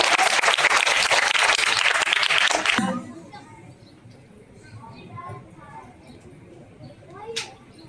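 A school audience gives dense, loud applause for farewell performers that stops abruptly after about three seconds, followed by quiet room noise, faint children's voices and a single sharp knock.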